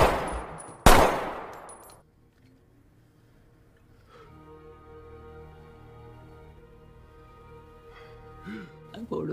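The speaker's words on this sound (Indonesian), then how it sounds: "datanglah Ovi yang tanpa basa-basi langsung menembak Gaspar hingga tewas" Gunfire from the action film Extraction: a single loud, sharp shot bursts out near the start, then fades into a quieter, sustained tonal background.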